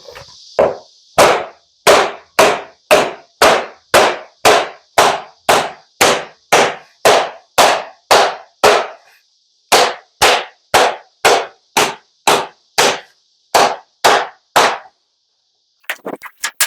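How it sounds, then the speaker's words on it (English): An old shot-filled hammer beats the corners of a metal freeway sign straight, about two dozen sharp, ringing blows in a steady rhythm, close and loud, with a brief pause midway and a longer break near the end. "the old shot-filled hammer"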